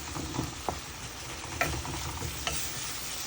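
Garlic paste and spices sautéing in a pan for a rohu fish curry: a dense, even sizzle with a few faint clicks of stirring throughout.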